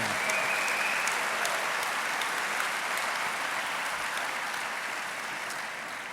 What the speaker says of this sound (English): let's have a round of applause for our graduates, the class of 2016